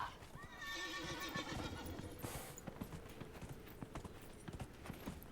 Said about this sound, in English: I'll ride my horse for a little bit.